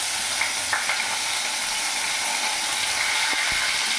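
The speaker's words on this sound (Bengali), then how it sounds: "পেঁয়াজটা কিছুক্ষণ নাড়াচাড়া করে ভেজে নেব, যাতে কাঁচা গন্ধটা ভাবটা চলে যায়।" Chopped onion with a bay leaf and a dried chilli fries in oil, giving a steady broadband sizzle with a few soft clicks of stirring, close and continuous.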